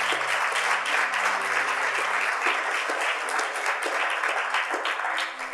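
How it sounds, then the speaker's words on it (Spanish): A church congregation claps together in sustained applause, a steady even patter with a faint tonal hum underneath. "Dale un buen aplauso al Señor."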